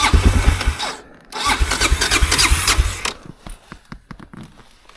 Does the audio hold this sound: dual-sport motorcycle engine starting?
yes